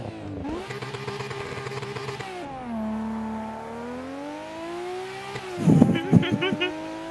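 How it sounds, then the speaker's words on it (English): A car engine revs repeatedly in rising and falling sweeps at moderate distance, holding steady tones between pulls, with a burst of louder sputtering near the end. "want you to listen to the car"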